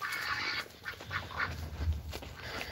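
Ducks quack in a few short bursts, fairly close, with quiet gaps between calls and no one speaking.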